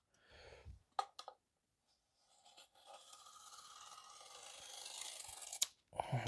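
A blade scores a shallow cut into a cardboard box, a faint, steady scraping rasp lasting a few seconds, preceded by a few sharp taps and handling noises.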